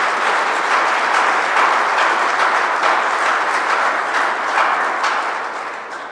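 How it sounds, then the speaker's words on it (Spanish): Church congregation at a Christmas Eve Mass clapping for migrants, a dense, steady wash of applause that holds for several seconds before thinning slightly at the end. "Les damos un aplauso a mis hermanos migrantes."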